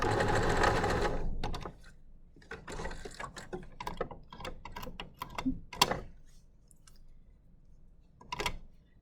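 A sewing machine back stitches a bodice dart for a basic dress, opening with a brief run of rapid stitching followed by a series of short, separate needle bursts and clicks, close and fairly quiet.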